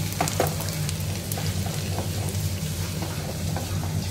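Fenugreek seeds and garlic frying in oil for a green pea pickle, crackling and sizzling steadily up close with light stirring taps.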